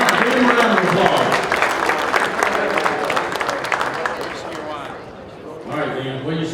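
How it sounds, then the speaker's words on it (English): A banquet audience at a turkey hunt fundraiser auction gives a full, loud round of applause for a winning bidder, with dense clapping and crowd voices mixed in that fade slightly before a brief swell at the end. "All right, give him a round of applause."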